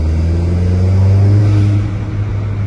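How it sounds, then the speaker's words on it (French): A modified car engine rumbles with a deep, steady, throaty tone, revving slightly before settling, close by and loud with no talking. "on entend que la voiture, si vous voulez, ça souffle très très bien déjà"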